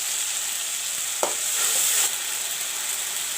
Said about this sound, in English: Put the ginger, garlic and onion paste